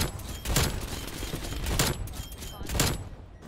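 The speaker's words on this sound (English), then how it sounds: "those shots are coming out" Gunfire in Black Ops Cold War: three loud, evenly spaced shots crack out with rumbling tails, while a voice talks faintly underneath.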